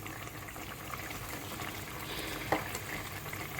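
Water quietly bubbling and simmering in a pot with cooked chicken for pulao, a soft, continuous low burble at close range with one small splashy pop. No voices.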